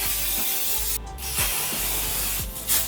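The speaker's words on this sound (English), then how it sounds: "I usually keep it 15 cm away from my hair and I'll just spray" Hairspray sprayed onto hair from about 15 cm away, a loud steady close hiss lasting a couple of seconds with brief pauses between bursts.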